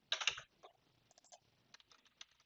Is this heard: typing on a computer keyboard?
yes